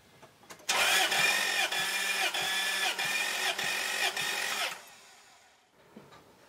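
A warm 4.7-liter V8 in a 2005 Toyota Tundra with a rough-running misfire cranks over on the starter for a compression test, giving a loud, steady rhythmic churn of about a dozen even pulses that stops abruptly, leaving quiet.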